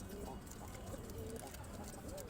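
A Kashmiri pigeon gives soft, repeated low coos, faint and close, over a steady background hiss with someone talking quietly.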